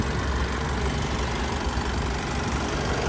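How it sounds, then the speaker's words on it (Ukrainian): A Honda CR-V engine idles steadily and smoothly up close, a constant low rumble with no breaks or changes. "Мотор працює чітко, рівненько, без ніяких шумів і посторонніх звуків."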